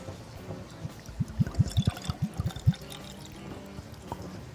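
Keeper's Heart whiskey glugging from a freshly uncorked bottle into a glass, a quick run of close, rhythmic gulping pours lasting about two seconds before trailing off into quiet.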